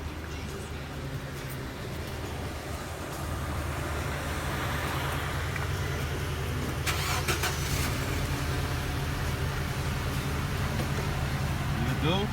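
A 2007 Nissan Versa on a test run after a front brake pad replacement: the car's engine starts and then runs at a steady, fairly close idle-to-drive hum for several seconds, with a brief clatter partway through and no clear talk.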